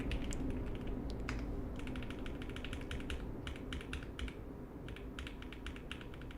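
Rapid keyboard typing in bursts of clattering keystrokes during a type racing game, steady and close over a constant low background hum, with brief pauses between flurries.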